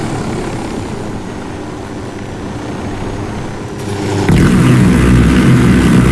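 Helicopter in the video game Ghost Recon Wildlands, a loud, steady rotor and engine drone that swells abruptly and grows heavier and closer near the end, with no talk over it.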